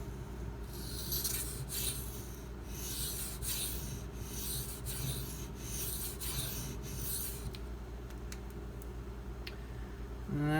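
A Kershaw Bareknuckle knife is drawn across a Shapton Pro whetstone in a steady series of about eight rasping, scraping strokes at close range. Near the end come a few lighter scrapes, with no talk.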